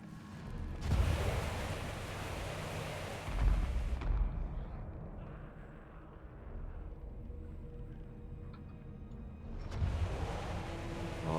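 Skaven stim rockets slam into defensive towers in Total War: Warhammer with heavy booming blasts, followed by a long rumbling roll of explosions and debris. A second loud wave of impacts comes near the end.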